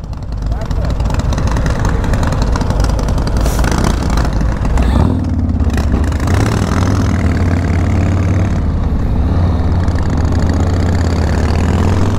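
A Harley-Davidson Street Bob engine rumbles steadily throughout, shifting to a lower, smoother idle-like drone partway through, loud and close under wind noise while someone talks over it.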